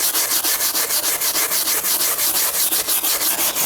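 Steady rhythmic rubbing, about five strokes a second, as mold and fungus are scrubbed off the wood under a deck, with close, even, bright scraping and no talk.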